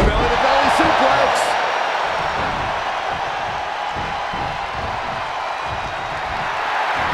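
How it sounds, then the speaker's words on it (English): Roaring arena crowd in the WWE 2K22 video game at an Elimination Chamber match, a dense, steady wall of cheering that stays loud and constant throughout, with no break in the noise. "The sound of this crowd is deafening, and he's asking for more."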